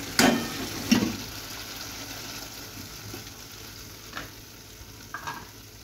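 Food frying in a pan is stirred, with a couple of sharp scraping strokes at the start, then a soft steady sizzle and a few light clinks later on.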